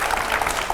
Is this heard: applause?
yes